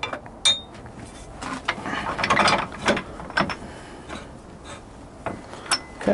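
A wider tool rest is fitted onto a wood lathe, producing close metallic clanks, clinks and ratcheting scrapes in an irregular series, with a few louder knocks toward the end.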